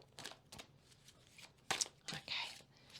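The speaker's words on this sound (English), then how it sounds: "So again, I'll just shuffle, and if one comes out, that's great." Chakra oracle cards are shuffled by hand in quick, soft riffling bursts and papery flicks, close but quiet, with a few sharper snaps toward the end.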